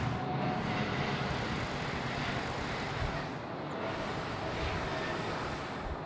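An airliner departing Sydney Airport, heard from the air traffic control tower as a loud, steady broad engine roar that swells slightly and holds throughout.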